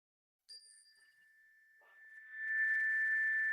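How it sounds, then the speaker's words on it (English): A bell tone rings out once, clear and sustained at close range, ending a calm breathing exercise for parents and kids, then a gentle ringing shimmer swells and holds beneath it. "As you hear the sound of the bell"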